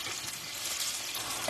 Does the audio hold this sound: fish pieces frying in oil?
yes